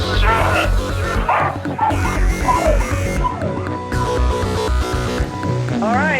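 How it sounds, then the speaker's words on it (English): A dog barks and yips repeatedly in an excited, noisy burst, with whimpering tones mixed in, close and loud under overlapping chatter from several people. "Tell that dog to shut up."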